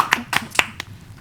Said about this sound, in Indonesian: Tepuk tangan dong semuanya